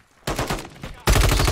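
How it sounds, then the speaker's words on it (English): Gunfire in the Warzone battle royale game, a sniper rifle among it: a sharp blast at the start, then dense repeated shots that grow louder near the end, close and loud. "Sniper. One shot."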